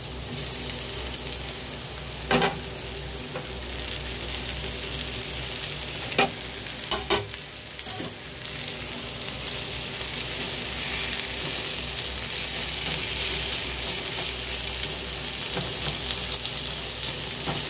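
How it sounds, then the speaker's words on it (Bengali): Chopped tomato hits a pan of browning onion and garlic, giving a steady loud sizzle, with a few sharp scrapes and clatters of stirring near the start and no talking. "পেঁয়াজ রসুনটা আরেকটু ব্রাউন করে ভেজে নিয়ে তারপরে আমি দেবো টমেটো কুচিটা।"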